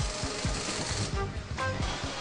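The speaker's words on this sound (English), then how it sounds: "Ten assembly lines are constantly running, drilling, wrenching, building, and testing at top speed." Machinery on a motorcycle assembly line, with power tools drilling and wrenching: loud, close, rapid rhythmic mechanical hammering and clatter that runs without a break.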